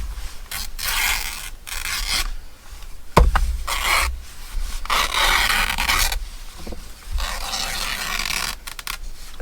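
Paper trimmed by hand, torn along an edge with fibrous rasping rips in several short strokes, close and fairly loud with small pauses and a thump between tears.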